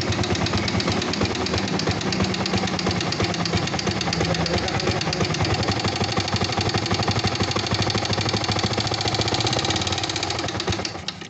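A Yamaha Vixion motorcycle engine runs rough, giving a steady, close, loud mechanical clatter with a knocking texture that holds unbroken for the whole stretch before easing slightly at the end.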